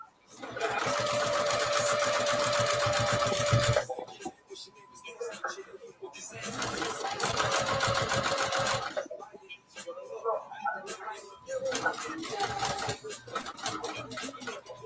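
A sewing machine stitches a fabric bucket bag in loud, steady bursts, running for several seconds, pausing, then running again, with quieter handling and background noise between runs.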